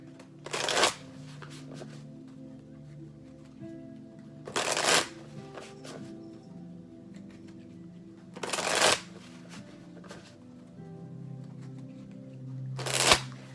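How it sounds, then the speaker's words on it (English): A tarot card deck is shuffled four times, each a short, crisp riffling burst separated by a few seconds of quiet. "let me go ahead and shuffle the deck."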